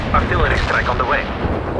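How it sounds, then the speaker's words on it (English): Artillery barrage explosions in the World in Conflict strategy game, a dense run of booming impacts rolling together into a continuous loud rumble for nearly two seconds. "Artillery strike on the way."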